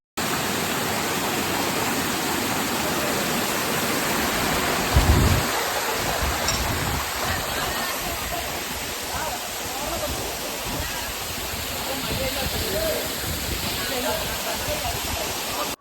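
Katiki waterfall near Vizag gives a steady, loud broadband roar of falling water that runs unbroken throughout, with voices mixed in.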